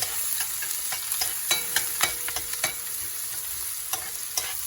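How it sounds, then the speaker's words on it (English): Onion frying in hot oil and being mixed, a bright continuous sizzle with soft irregular clicks and scrapes of stirring throughout, close and steady. "our oil is nice and hot. So we just put in our onion. We're going to give that a good mix."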